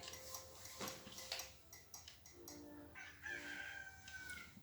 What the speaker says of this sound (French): on entend le coq du matin